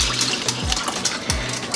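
About one and a half cups of water splashes and trickles into a pot of Jamaican red stew peas, a close, continuous pour with gurgling bursts throughout.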